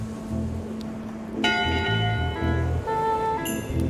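A ship's bell in Return to Monkey Island strikes once with a bright metallic clang that rings on over a low game music bed, with a fainter chime near the end.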